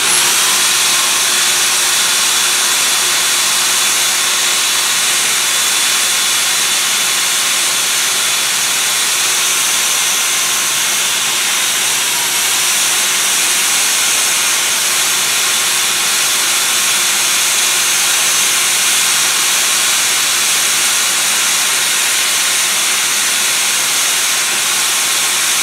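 A continuous, loud abrasive hiss of a power sanding pad working an alloy wheel, steady and unbroken throughout with no voices.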